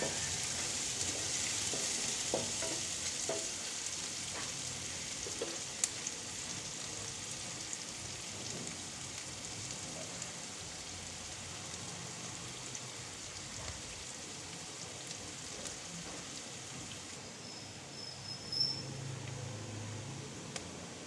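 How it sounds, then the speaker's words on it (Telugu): Onions sizzle quietly in a pan as they fry toward golden brown for upma, a steady soft crackle with occasional stirring, with no voices. "ఇలా ఆనియన్స్ అనేవి పచ్చివాసన పోయి గోల్డెన్ కలర్ వచ్చే వరకు దగ్గరగా వేయించుకొని"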